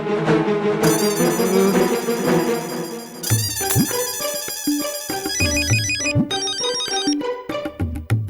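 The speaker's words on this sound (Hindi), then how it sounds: "अरे पोपट भाई का फोन" A loud, melodic mobile ringtone plays continuously in a Hindi sitcom film scene, with a bright repeating tune and a punchy beat that shifts partway through.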